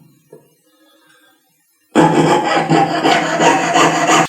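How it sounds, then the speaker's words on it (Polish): A hand saw rasps through a metal bracelet clasp at a jewellery workbench: after near silence with a few faint knocks, the sawing starts abruptly and continues as loud, close, rhythmic scraping strokes to the end. "Przesmarować brzeszczot piłki. Troszkę mi hałasuje."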